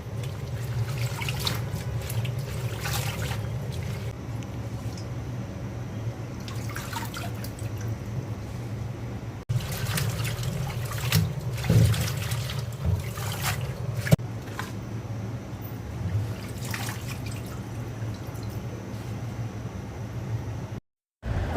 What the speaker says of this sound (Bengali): শাকটা আমি ভালো করে পরিষ্কার করে ধুয়ে নেব।